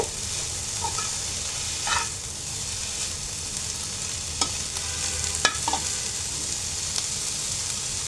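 Washed moringa leaves frying dry in a pan, a steady close sizzling hiss with occasional sharper clinks and scrapes of stirring.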